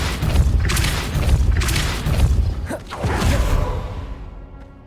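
A Depulso spell cast in Hogwarts Legacy, a loud booming magical blast with whooshing rushes that rumble and fade out, alone without talk.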